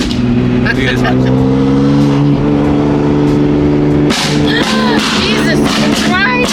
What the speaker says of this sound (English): This car's too loud to go fast anywhere.